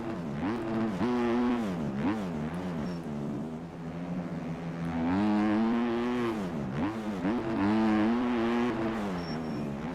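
A motocross bike on a lap in MX Bikes, its engine revving up and down in waves as it shifts and throttles, loud and close with no talking.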